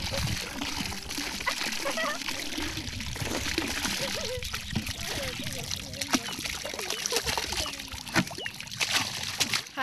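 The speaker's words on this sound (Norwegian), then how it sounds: "Her slapp vi ut fisken i vannet" Fish are released into a lake during stocking work, with water splashing and sloshing close by in irregular bursts while voices, including a child's, talk throughout.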